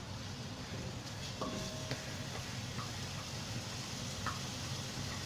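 Minced onion frying in a pan for beef lasagna, a faint steady sizzle with a few light clicks and scrapes, no voices.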